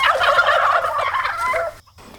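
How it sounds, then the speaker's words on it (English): A male turkey gobbles once, loud and close, a rapid warbling burst that cuts off abruptly into near silence. "males are the only ones that gobble."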